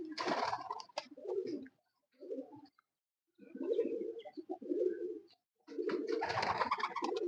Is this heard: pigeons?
yes